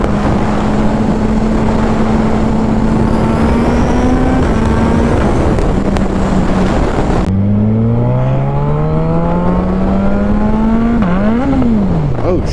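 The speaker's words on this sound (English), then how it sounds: "this bike, for being such a big bike, this thing freaking handles amazing" Gen 3 Suzuki Hayabusa sportbike ridden with a quick shifter: a loud, steady engine drone with wind roar, the pitch holding and then climbing through gear changes, up close from the rider's position with a brief voice in the mix.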